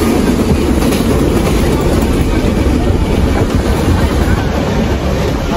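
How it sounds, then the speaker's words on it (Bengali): Inside the Madhumati passenger train running fast between Poradah and Rajshahi, a loud continuous rumble and rattle of the carriage with wind rush fills everything, near and unbroken. "আজকে মধুমতি ট্রেন এত জোরে টানতেছে মনে হচ্ছে বুলেট ট্রেন।"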